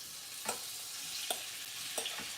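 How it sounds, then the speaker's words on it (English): Shrimp sizzling steadily in a very hot pot, with a few sharp clinks of a utensil stirring at irregular intervals. "it's already sizzling because it's that hot"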